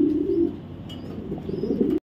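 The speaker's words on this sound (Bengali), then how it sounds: "এক জোড়া সবজি রেসার কবুতর" A pair of racer pigeons gives a steady, close, low cooing drone for about two seconds, then stops abruptly.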